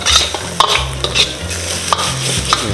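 Quail stir-frying in a pan with kratom leaves being added, a busy crackling sizzle broken by quick scraping strokes of a utensil, close and steady with no one talking.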